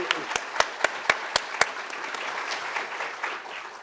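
A genome engineering workshop audience applauds, with a run of loud, evenly spaced close claps from one pair of hands over a broader spread of clapping that tapers off.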